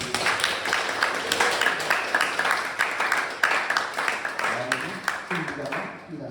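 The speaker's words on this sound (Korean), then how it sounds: "박수." Wedding guests applaud during a ceremony, a fairly steady moderate patter of clapping mixed with voices that fades near the end, where speech takes over.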